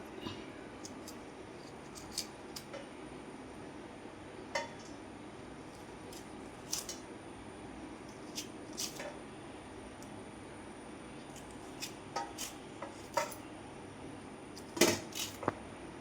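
A metal spoon scrapes the soft pulp out of drumstick pods for a thoran, heard as faint, sporadic clicks and light scratches over a quiet room hush.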